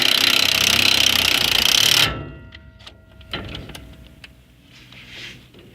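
Fasteners being tightened on a trailer axle: a loud, harsh burst of power-tool rattle for about two seconds, then quiet scattered metallic clicks and taps.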